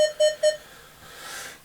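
Three short, clear electronic beeps in quick succession from an X-Terra 705 metal detector, followed by a faint hiss.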